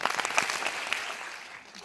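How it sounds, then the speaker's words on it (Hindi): A group of people claps together in a quick burst, the applause starting strong and tapering off over a couple of seconds. "जिसे जिसे समझ में आ रही है वो 2 बार ताली बजाएगा।"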